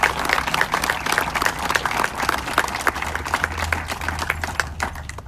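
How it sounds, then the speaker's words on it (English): A crowd at a school board meeting applauds the school superintendent, Dr. Willis, with dense, steady clapping that holds at a fairly even level throughout, with no voices over it. "please give her another round of applause"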